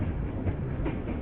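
A train rumbles steadily along the rails, a low continuous rolling drone with faint rhythmic clatter, heard alone at moderate loudness.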